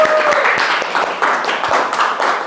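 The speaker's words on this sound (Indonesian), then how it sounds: "Tepuk tangan dulu buat kita semua." A classroom group claps together at the close of a school guidance session on self-confidence, with dense steady applause running throughout and no voices.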